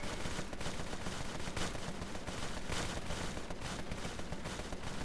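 Dense, continuous rapid gunfire with overlapping bursts and explosions in the video game Empire of Sin, steady and loud throughout with no voices.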